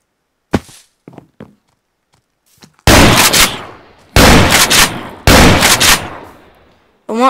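Three loud, booming shotgun blasts without a silencer in a video game, each followed by a short echoing tail, coming after a few faint clicks and thuds, with a brief higher sound at the very end.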